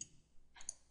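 A single crisp computer mouse click at a desk during work in 3D piping design software, short and fairly faint against a quiet background.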